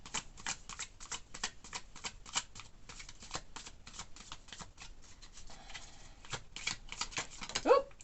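Tarot cards being shuffled and drawn during a reading: a steady run of soft, rapid papery flicks and riffles, close and fairly quiet, ending in a louder snap near the end.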